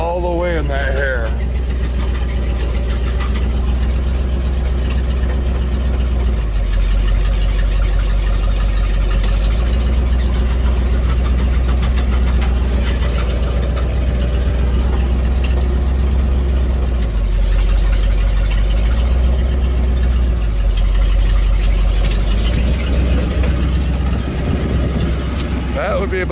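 Chevrolet square body ambulance engine idling close by, a loud, steady low rumble that runs the whole time with slight swells, with someone talking over it.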